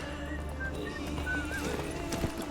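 Geralt's horse Roach from The Witcher 3 moves with steady hoofbeats under continuous game music and ambience, with a few brief whinny-like tones.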